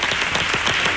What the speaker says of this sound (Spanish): aplauso para el emperador y los suyos